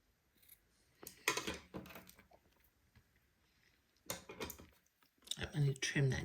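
Scissors snip through batiste fabric in short bursts of close, crisp cuts separated by pauses, with a voice talking in between.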